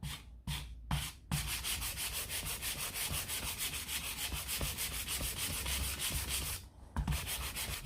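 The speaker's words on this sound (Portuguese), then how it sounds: "vou lixar até chegar no alumínio, com muito cuidado" Sandpaper is rubbed by hand over an aluminium filter part from a Volkswagen Beetle, making a steady rapid rasping scrub that runs almost unbroken, with a few brief pauses at the start and near the end.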